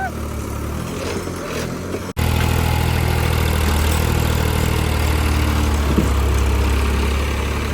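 A loud, steady tractor engine rumbles close by, idling with a deep low throb after a brief cut near the start, running continuously to the end.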